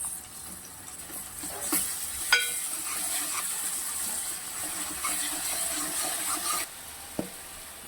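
Onions and ginger paste fry in a pan for a mushroom curry, giving a soft, steady sizzle and hiss that runs throughout with a few faint clinks, and no voices.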